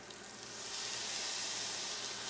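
A small splash of water hitting a hot pan while deglazing a cabbage and apricot stir fry, a soft steady sizzling hiss that swells after a moment and holds, faint and close with no talking.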